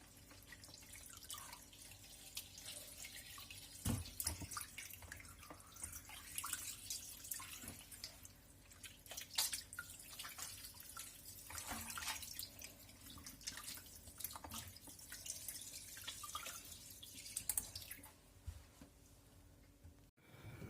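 Water runs and drips from a kitchen tap while rabbit meat is washed in a sink, a faint, uneven patter of splashes and trickles over twenty seconds.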